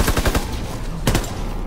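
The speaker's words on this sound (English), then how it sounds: "I have a sniper so I can get quick scope." In a World War II video game, loud shots fire in a quick burst of several cracks, then a single heavy report a moment later, close and punchy over game background noise.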